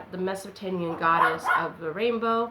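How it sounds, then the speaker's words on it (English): A neighbor's dog barks and yelps repeatedly close by, the sharp bursts running over and between a person's steady talking. "That's my neighbor's dog."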